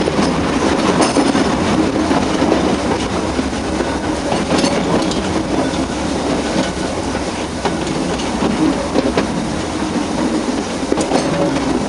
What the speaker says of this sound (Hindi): आप देख सकते हैं ये गाड़ी ग्रेडियंट की वजह से बहुत धीरे, काफ़ी स्लो गति से जा रही है।